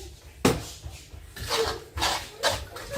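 Oil being stirred into a bowl for coconut balls, heard as a few close, irregular bursts of clattering and scraping, with a sharp knock near the start followed by three longer rough swirls.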